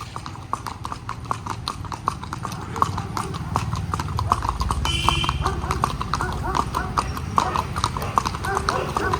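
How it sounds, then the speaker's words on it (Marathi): A mare pulling a newly paired buggy clip-clops with steady, close hoofbeats throughout, with a man riding along and voices talking over the rhythm. "उर्फ गफलत उर्फ बटाट्या उर्फ आदित्य क्षीरसागर बाबा बसलेले आहेत त्या घोड्यावर"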